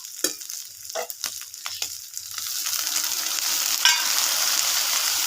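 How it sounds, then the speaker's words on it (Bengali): Ground spice paste hits a pan of fried potatoes for a jackfruit curry, with a few sharp scraping stirs first, then a steady close sizzle that builds and holds. "নেড়ে চেড়ে ভালোভাবে কষিয়ে নেব 1-2 মিনিটের মতো"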